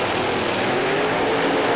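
Drag racing cars launching off the line at the 1992 IHRA Northeast Nitrous Nationals in New England, a loud, continuous roaring engine blast that fills the whole moment without a break.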